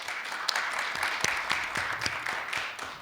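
Audience applause welcomes candidates at a Justice Party debate for proportional-representation nominees ahead of Korea's 2016 general election; dense, steady clapping from a hall crowd fills the moment, fairly loud and unbroken, with no talking.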